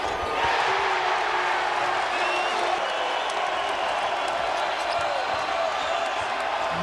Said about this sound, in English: this big crowd keeps on rocking